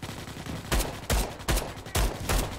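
Pistol fire in Starship Troopers: Extermination, five sharp, loud shots spaced roughly half a second apart, each a close, punchy crack with short decay.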